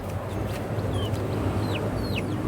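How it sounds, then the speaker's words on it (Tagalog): Grower chickens in a small backyard coop, a dense, constant murmur of soft clucks and chirps from many birds close by, with no voices. "nandito lang tayo sa loob ng ating munting manukan bali yung mga grower chicken natin"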